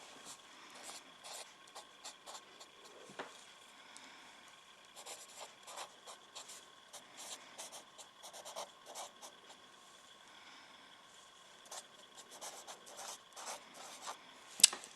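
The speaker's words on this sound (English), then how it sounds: "Then I'm going to need my red felt tip pen." A red felt tip pen squeaks and rubs across paper in short scratchy strokes with brief pauses between them, quiet and close, ending in a sharp tap.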